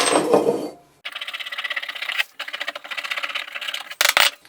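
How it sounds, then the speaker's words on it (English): A hand scraper works old gunk off the head of a vintage engine on a board track racer replica, making rapid rhythmic rasping strokes in close bursts separated by short pauses, with a sharp metallic clatter near the end. "So we'll just scrape this off, get all this nice and cleaned up."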